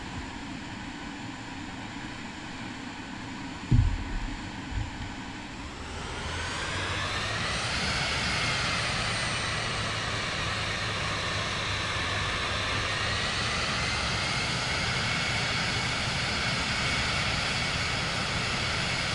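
An airplane taxis in Microsoft Flight Simulator 2024, its engine hum swelling after a few seconds into a loud, steady whine that holds to the end, with a brief thump early on and no talk.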